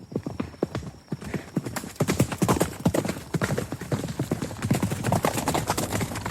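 A startled horse takes off at speed, its hooves clip-clopping in a fast, steady rhythm that stays loud and close throughout, with no voices over it.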